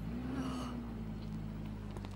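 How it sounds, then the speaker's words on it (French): A car arrives with a low, steady engine hum that lingers close by, while faint lighter noises flicker above it and no one speaks. "C'est la voiture de Sarah?"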